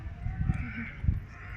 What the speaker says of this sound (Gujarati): જો અહીંયા કેટલા બધા કાગડા